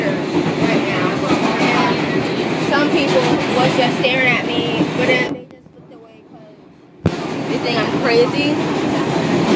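A subway train riding on rails gives a loud steady rumble and rattle, broken by a brief near-silent gap before the noise snaps back, while someone talks over it.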